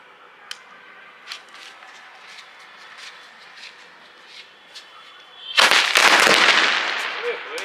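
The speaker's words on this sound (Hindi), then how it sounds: "ये सेवन शॉट, ठीक है, ये जला देंगे" A seven-shot sky shot Diwali firecracker goes off after a quiet stretch of faint ticks, erupting into a loud, dense crackling burst of bangs that lasts about two seconds and trails off.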